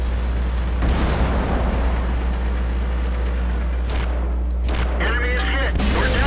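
A tank shell slams into a tank from the side during a World of Tanks battle: a loud explosive boom over a constant low engine rumble, followed by further impact bursts and a clanging metallic ring.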